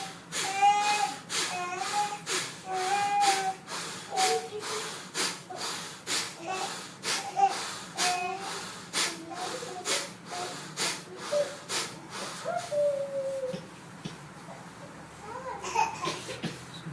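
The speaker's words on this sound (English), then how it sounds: "We do it with the breath, and slowly we do it without making sound of the breath." Audible breathing in a zikr breath exercise comes as a steady train of short, forceful breath pulses close by, some carrying faint voiced tones, slowly thinning and softening toward the end.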